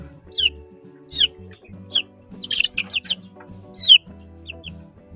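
Hen and newly hatched chicks near an incubator, with repeated short clucks and high peeping chirps in bursts over a low background hum; no talking.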